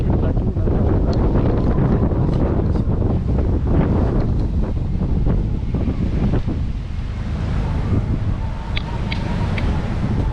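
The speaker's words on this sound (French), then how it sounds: "Pour l'instant on a 28 nœuds de vent et surtout des vagues super impressionnantes" Strong wind roars over the microphone as large waves surge around a sailboat at sea in 28-knot winds during an Atlantic crossing, a loud continuous rush with heavy buffeting throughout.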